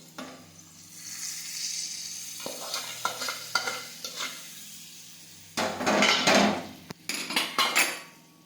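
Yogurt is poured into a sizzling cumin tempering for dahi tikhari and stirred. A soft sizzle is followed by loud bursts of frying hiss and sharp metal spoon scrapes and clinks against the pan.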